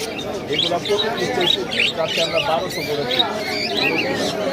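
Pet birds chirping and squawking at Mirpur-1 bird market on a day of heavy rain, a busy overlapping stream of close calls under crowd babble and talking voices.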